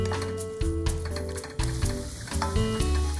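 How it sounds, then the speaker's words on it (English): Pork stir-fries in oil in a pot for a Japanese-style curry, giving a steady sizzle that swells with each stir, layered over a sustained tonal background. "Stir fry the pork."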